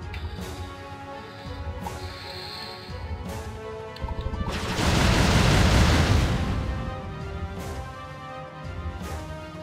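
A loud, booming explosion rumbles for a couple of seconds amid a busy Jade Empire game soundscape with music and effects.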